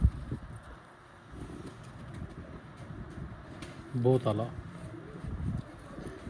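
Pigeons at a fancier's loft give a brief, close coo partway through, set among steady outdoor background noise while people talk nearby.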